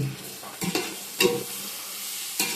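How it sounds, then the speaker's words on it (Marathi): Chopped tomatoes hit a hot pan of chicken biryani gravy, setting off a bright, crackling sizzle that is stirred in a few sharp scraping bursts, with quieter frying hiss between them. "टोमॅटो टाकतोय ग्रेव्ही करण्यासाठी सुरुवात झालेली आहे आपली"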